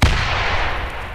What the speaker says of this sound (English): Grenade, watch it.